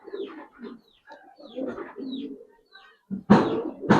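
Giribaz pigeons, among them a silver-necked bird, coo in soft low bursts close by, with a louder, sharper flurry of sound near the end.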